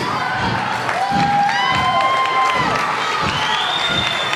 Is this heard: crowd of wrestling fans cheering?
yes